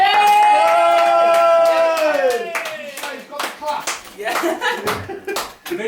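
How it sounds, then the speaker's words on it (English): An audience at a spoken word night claps and cheers for a storyteller taking the stage, loud scattered hand claps and shouts building after a sustained held tone, with voices in the crowd. "a big round of applause"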